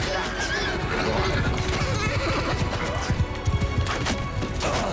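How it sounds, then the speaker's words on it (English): A horse neighs amid battle in Mount & Blade II: Bannerlord, loud whinnies over clattering hooves and crashing combat noise, with a voice talking over the chaos. "That's a horse. Well, was a horse."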